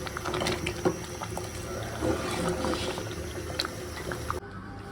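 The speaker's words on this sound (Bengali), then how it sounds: "আর এখন যে চটপটি বসাই দিয়ে দিয়েছি, চটপটি রান্না করে দিচ্ছি।" Chotpoti, the Bangladeshi chickpea snack, simmers in a pot with a steady, close bubbling and hissing that runs unbroken before dropping quieter near the end.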